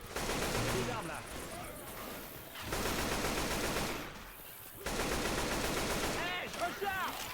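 Left 4 Dead 2 gunfire rattles in long, dense automatic bursts that are loud and sustained, broken by short pauses, with game effects and some voices in the mix.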